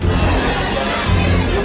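A dense crowd of pilgrims packs a railway station platform at Ranchi, a loud continuous roar of overlapping voices and shouts close by.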